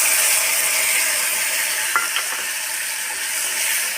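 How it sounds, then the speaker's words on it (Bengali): Sesame and poppy seed paste frying in a pan with onions and potatoes gives off a steady, close, loud sizzle and hiss, with a couple of faint clicks midway. "দেখুন তিল পোস্ত ভাজা ভাজা হয়ে গেছে"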